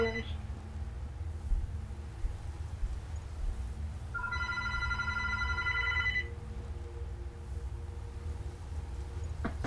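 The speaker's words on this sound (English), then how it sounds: "The phone is ringing." A telephone rings once in a steady electronic burst lasting about two seconds, moderately loud over a low background hum in a room.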